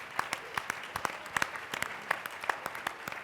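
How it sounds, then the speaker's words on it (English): Audience applause follows a call for the crowd to cheer itself at a political gathering with a congressperson present: sustained, moderately loud clapping from many hands with distinct sharp claps standing out near the front. "give yourselves a round of applause"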